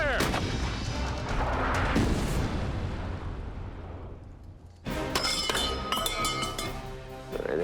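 Artillery guns fire during a military fire mission: a heavy booming blast with a long rumbling decay, then a second sharp, loud blast a few seconds later, with no talk over it.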